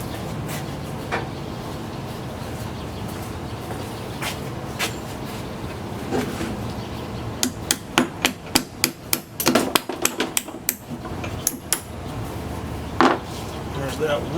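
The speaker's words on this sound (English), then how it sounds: "A vise and a hammer and chisel would go great right here." A hammer strikes a chisel during a power steering pump repair on a 2003 GMC Envoy with the 4.2L engine, a rapid run of sharp metallic blows arriving in a burst after several scattered taps.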